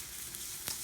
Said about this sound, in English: Oh, I just love that sizzle sound.